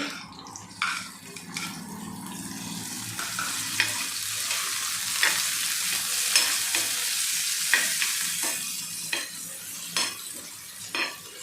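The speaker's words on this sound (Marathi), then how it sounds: "टमॅटो टाकत आहे" Tomatoes hit a hot pan for a Marathi dried-shrimp (jawala) chutney, giving a steady close sizzle broken by repeated scraping stirs and light clinks of a utensil against the pan.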